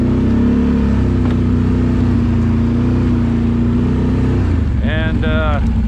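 Engine of a Can-Am four-wheeler ATV on a test ride runs as a loud, steady drone with a constant low hum, close and continuous, with a brief higher whine near the end.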